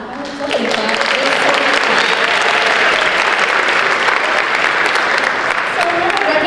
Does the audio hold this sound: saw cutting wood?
no